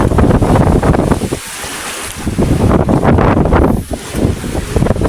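Strong wind roars and heavy waves crash and slosh around a small outrigger fishing boat in rough weather at sea, loud and gusty throughout with brief lulls.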